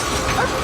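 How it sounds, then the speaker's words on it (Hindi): A search dog named Sage, working in hunt mode, barks at a parked car; one short, close bark-like burst over busy background noise. "इस कार पर भौंक रही है"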